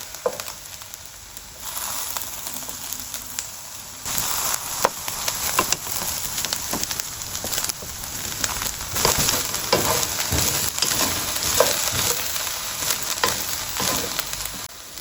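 Sliced eggplant (baingan) fries steadily in hot oil in a pan, a loud continuous sizzle and crackle with occasional clatter as pieces are turned.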